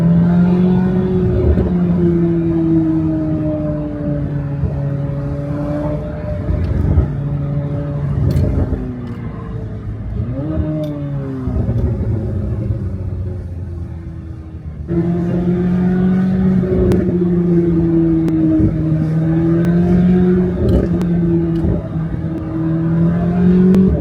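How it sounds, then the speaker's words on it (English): A Chevrolet Corvette C8 Z06 engine rumbles loudly from inside the car while cruising at low speed, its steady drone swelling and easing with throttle, a brief dip and gear shift midway, then returning strong, with no talking. "This car sounds so good even at lower speeds."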